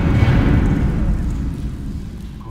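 Explosion in Medal of Honor 2010 on PC, a heavy low boom that is loudest at the start and then rumbles and fades away over a couple of seconds.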